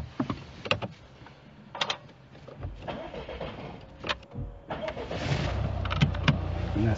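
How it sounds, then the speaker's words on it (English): A car engine cranks and catches, then settles into a steady idle, preceded by small interior clicks and rustles inside the vehicle. "I would like you to start the car."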